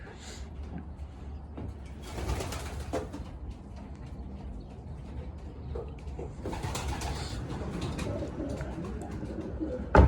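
About 40 pigeons coo softly and steadily in a loft, a low murmuring chorus with occasional rustles and a louder clatter near the end.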